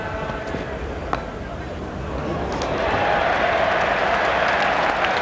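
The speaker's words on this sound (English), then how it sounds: "Great cheer, not for the best shot of the day, but for Graeme Hick's half century." A cricket crowd at a test match between England and the West Indies applauds and cheers a half century, a broad wash of clapping and roar that swells louder after a few seconds and holds steady.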